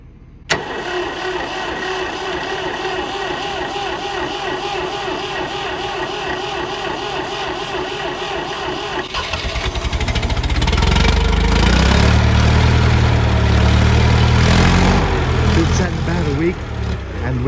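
A Ford 2000 tractor engine cold-starts on a 24-degree morning: a long stretch of cranking, then the engine catches and settles into a loud, rough idle close by.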